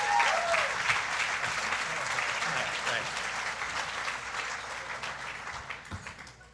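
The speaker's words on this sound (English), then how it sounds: "thanks for giving me the round of applause" A charity gala audience for Ronald McDonald House Charities of Eastern Wisconsin claps in a full round of applause that fades gradually toward the end, with some voices mixed in beneath it.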